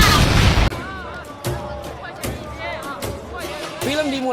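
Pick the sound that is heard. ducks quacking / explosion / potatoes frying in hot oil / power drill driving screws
explosion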